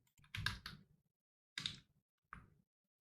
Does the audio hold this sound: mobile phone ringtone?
no